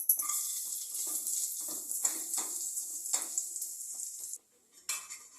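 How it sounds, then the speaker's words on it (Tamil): Grated coconut roasts in a pan for payasam, with a steady dry sizzle and scraping stirs of a spoon against metal, close and continuous, then a brief pause before the stirring resumes. "தேங்காய் போட்டு வறுத்து எடுத்துடலாம்"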